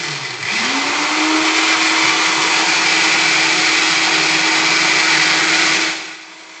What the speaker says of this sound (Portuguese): Então, vou aqui no meu liquidificador.